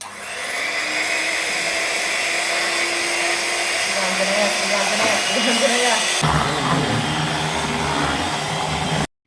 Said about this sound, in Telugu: ఇప్పుడు నేను బీట్ చేయబోతున్నాను